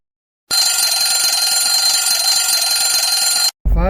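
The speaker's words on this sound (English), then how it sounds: "It typically starts at about 6:20 when the good old alarm clock goes off." An alarm clock rings in the morning, a steady continuous electronic alarm tone lasting about three seconds, loud and close, then cutting off abruptly before a brief burst of other noise.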